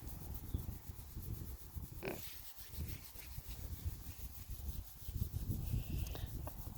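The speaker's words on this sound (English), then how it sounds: "Oh, she likes her belly rubs so much." A hand rubs a pig's belly on a farm, making a steady, close scratching and rubbing texture that runs throughout with only small changes in loudness.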